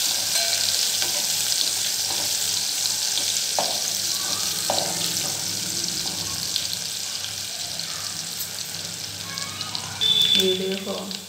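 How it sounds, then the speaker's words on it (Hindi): Chopped onions sizzle in hot oil in a pan, a steady close frying hiss with occasional soft stirring clatter and a voice speaking at times. "अब हम इसमें प्याज डालेंगे। ये हमने प्याज डाल दी। अब हम इसको फ्राई करेंगे।"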